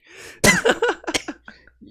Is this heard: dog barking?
no